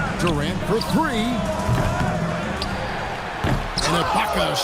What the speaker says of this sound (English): And Ibaka slams it in.